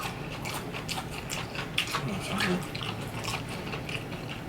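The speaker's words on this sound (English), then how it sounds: "Asparagus is good. Crunchy, right?" Close crunchy chewing of asparagus, wet bites and crackles repeating irregularly, with soft background noise throughout.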